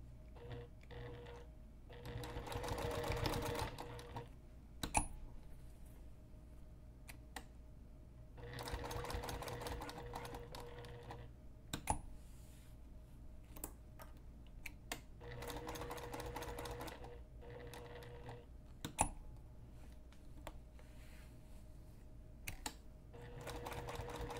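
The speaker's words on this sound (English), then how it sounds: "So I'm going to sew a rectangular box, and if you wish, you can also sew an X through the box for extra reinforcement" A sewing machine stitches a reinforcing box through nylon backpack strapping onto bag fabric, running in several close, steady bursts with short pauses and sharp clicks between runs as the corners are turned.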